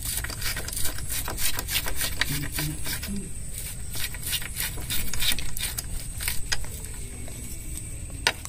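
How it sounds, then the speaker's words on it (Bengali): A nut is tightened on the gear lever of a Pulsar motorcycle, giving a run of close, scratchy ratcheting clicks and metallic rubbing at a steady, moderate level. "তো আমরা এটা এখন নাট দিয়ে ভালোভাবে লাগাবো"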